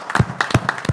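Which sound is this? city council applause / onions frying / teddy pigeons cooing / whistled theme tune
city council applause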